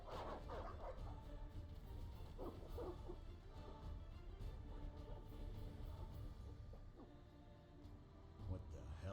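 Dogs bark and yip in a busy scene in The Witcher video game, the barking mixed with a steady low rumble and background voices throughout.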